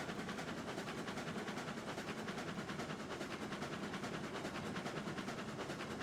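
Steam locomotive in the railroad simulation game Railroads Online, pulling cordwood cars at speed, gives a rapid, steady stream of chuffs, continuous and fairly loud without pauses, with no voices over it.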